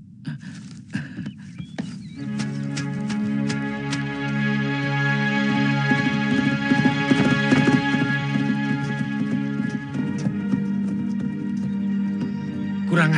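A horse's hooves clip-clop at a steady gait, repeated sharp knocks running continuously under a sustained musical drone, moderately loud and close.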